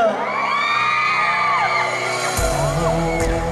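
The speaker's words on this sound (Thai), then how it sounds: "เอาขอฟังเสียงกรี๊ดหน่อยแล้ว" A large concert crowd screams and cheers loudly and continuously, high whoops and shrieks rising over a dense roar, with a deep bass swell near the end.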